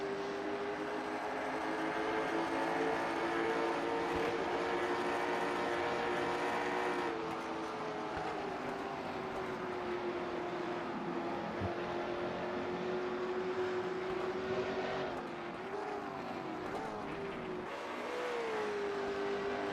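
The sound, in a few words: Trans Am race cars rumbling on track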